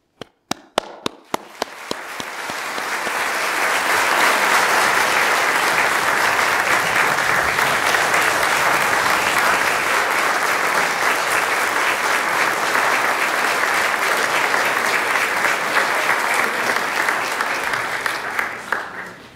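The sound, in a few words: applause for new paramedic graduates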